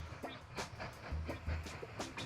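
Train engine in the Mashinky railway video game, a steady rolling rumble with repeated rhythmic clacks and soft hissy bursts, moderately quiet and heard alone.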